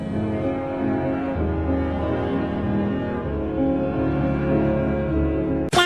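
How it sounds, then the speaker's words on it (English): A bright square-wave synth lead carries a simple, bold melody for a dancefloor drum and bass track, loud and sustained over dense layered tones, with a sharp burst at the very end. "Now, the melody. Go for something bright."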